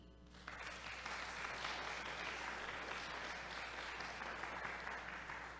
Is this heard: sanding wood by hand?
no